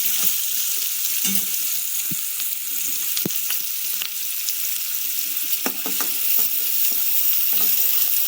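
Medium-size chopped onion fries with browned cumin seeds in a pan over high gas for paneer bhurji, a steady close sizzle broken by scattered sharp taps and scrapes of a spoon stirring.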